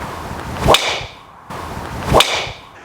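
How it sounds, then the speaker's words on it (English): Two loud, sharp Ping golf driver impacts about a second and a half apart, each a crisp metallic crack over a quiet outdoor background. "The sound it made when you hit it, it was a little bit overpowering,"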